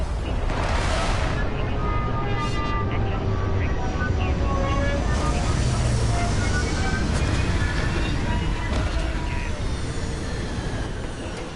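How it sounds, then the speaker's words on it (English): Spaceship settling down on retro thrusters in the video game Starfield, a loud continuous roaring rush of engine noise throughout, with brief faint voice fragments mixed in. "Landing struts primed. Retros firing."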